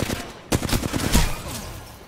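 Gunfire in a video game, a quick loud burst of rapid shots lasting about a second before trailing off.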